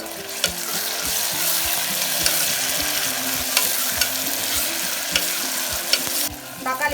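Tomatoes added to frying onions for chicken biryani, a steady sizzle with repeated stirring and scraping of a spatula in the pan, close and continuous, with no talking.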